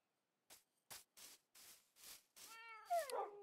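Short meows from a cat in a video game, six or seven separate calls spaced about half a second apart, ending in a longer, drawn-out tonal cry. Clear and close, with no talk over them.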